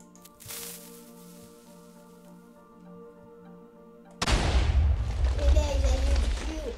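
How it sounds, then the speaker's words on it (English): Cubic TNT detonating in the Minecraft Too Much TNT mod: a quiet stretch of music and a faint fuse hiss, then a sudden massive booming explosion that keeps roaring and rumbling loudly to the end. "It is a huge cube explosion."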